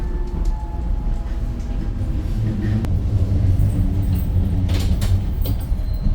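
A Docklands Light Railway train rumbles steadily into Stratford station, a continuous close low roar with rail clatter and a brief squeal of brakes near the end.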